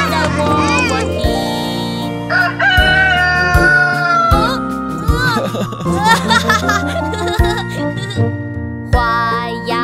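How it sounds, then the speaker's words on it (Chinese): A rooster crows inside a bright children's song, set over steady music with singing voices. "看一看小河边有一只小公鸡，它在喔喔啼"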